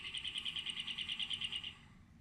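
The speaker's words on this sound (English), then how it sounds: "This is what a cactus finch sounds like." A cactus finch sings a fast series of about sixteen evenly spaced, high buzzy notes, faint and clear against a quiet background, then falls silent.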